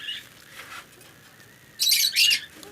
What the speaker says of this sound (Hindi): लव बर्ड का लोटिनो का एक पेयर है